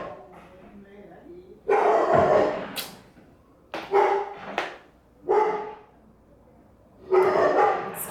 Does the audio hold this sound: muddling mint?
no